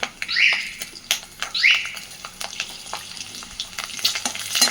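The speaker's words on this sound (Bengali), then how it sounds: "एबार आमि तेलेर मধ্যে फोड़ने दिচ্ছি बेश खानिकटा कालो जिरे" Nigella seeds, garlic cloves and slit green chillies spit and crackle in hot oil, with stirring clatter and a few bird chirps in the background; no talking.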